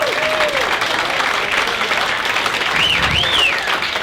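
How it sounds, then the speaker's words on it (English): Comedy club audience applauding a stand-up performer, steady dense clapping with a few whoops and whistles, continuous throughout. "Clap for him."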